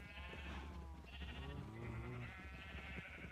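Sheep bleating in the video game Minecraft, several drawn-out wavering bleats overlapping one another over a low steady background hum, fairly close and moderately loud.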